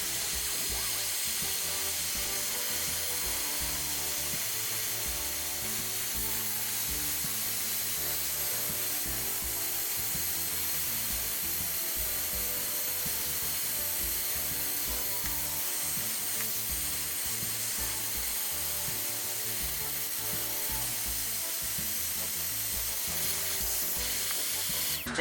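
A Dremel rotary tool working a DIY beverage coaster gives a steady, unbroken grinding hiss with a faint high whine, close and even in level for the whole stretch, with no talking.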